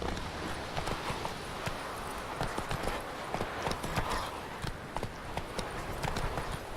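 Roach, the horse in the video game Witcher 3, gallops with a steady rapid clip-clop of hooves over a dense bed of game ambience, loud and continuous throughout.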